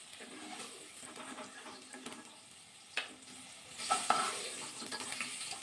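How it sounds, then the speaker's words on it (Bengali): Raw jackfruit pieces fry in oil with a quiet, steady sizzle and occasional scrapes of stirring, growing a little louder toward the end, with no voices. "ওই তেলের মধ্যেই তো ইঁচড়টা ভাজা করছি"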